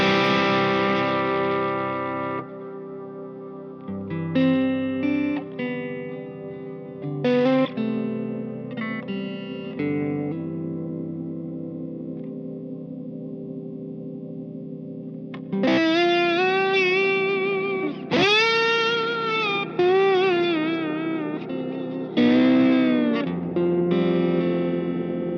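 Sustained electric guitar drone fed through reverb and delay pedals, notes swelling and smearing into long washy tails that overlap and keep ringing, with a denser, brighter wave of repeated notes building in the second half; no talking.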